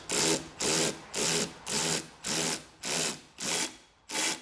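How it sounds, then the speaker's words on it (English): A power tool with an extension works on a bent axle part of a Vauxhall/Opel Astra, firing eight short rhythmic bursts of rattling whir separated by brief pauses. "we'll whip it off with the old power tools"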